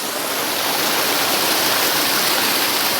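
Steady roar of a creek waterfall falling and rushing over rocks, loud and constant throughout with no voices.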